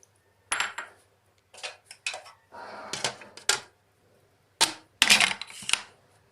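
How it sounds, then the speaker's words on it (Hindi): Oreo biscuits and sugar tipped into a shake jar, heard as a series of short clattering, rattling bursts of pieces and grains hitting the container, separated by brief pauses, close and with no talking. "अब हम इसमें 2 पैकेट्स जो हैं ओरियो बिस्किट में ऐड करेंगे इसमें और इसमें 3 टेबलस्पून जो है वो शुगर ऐड करेंगे।"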